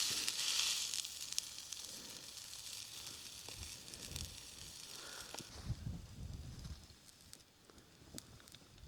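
Sausages frying in a pan at a wild campsite, a faint, steady sizzle and crackle throughout with occasional soft knocks and taps nearby.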